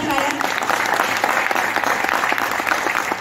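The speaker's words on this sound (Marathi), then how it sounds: "एकदा जोरदार टाळ्या" An audience at a direct-selling business gathering claps hard. The applause is dense and sustained, a loud, even patter of many hands throughout.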